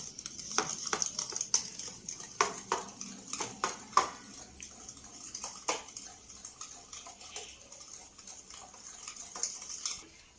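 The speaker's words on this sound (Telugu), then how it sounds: "నెయ్యి వేసి చక్కగా ఇలా కలుపుకోవాలి." Ghee being stirred into Mysore pak mixture in a pan, a spoon scraping and clinking in an irregular rhythm with soft wet sloshing, close and moderately quiet, no talking.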